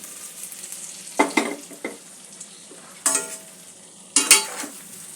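Potatoes and cauliflower are stirred into a spice masala frying in a pan for a cauliflower curry, giving a steady low sizzle broken by three or four louder scraping stirs, with no talk.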